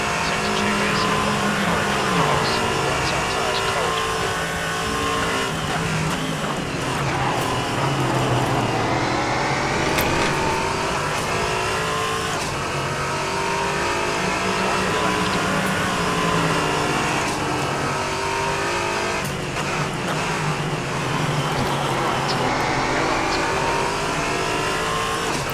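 A race car in a sim racing game, an LMP3 or GT2 class machine in an online multiclass endurance race, drones and revs steadily throughout with a loud, continuous engine note that shifts pitch as it accelerates and brakes.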